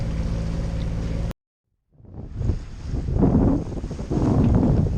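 Wind buffets a sailboat at sea on a solo passage from Marseille to Ibiza. A steady droning tone cuts abruptly to near silence, then gusty, rumbling wind noise rises and swells loudly against the microphone.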